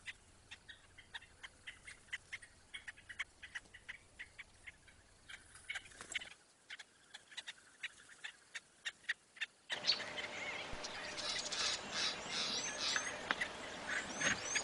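Many bee-eaters at a breeding colony in Kruger give rapid, overlapping short calls in a busy chatter, with frequent sharp notes that grow denser and louder toward the end.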